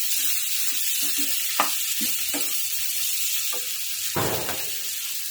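Chopped onions sizzle steadily in a hot pan for paneer bhurji, with a few sharp scrapes and clinks of a stirring spoon and a louder burst of frying near the end, close up with no talking.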